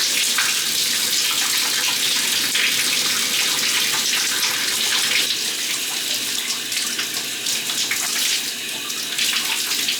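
Shower water runs in a steady, loud hiss of spray that fills the whole stretch, with a few slight dips in intensity and no talking.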